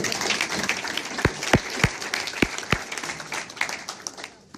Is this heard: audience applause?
yes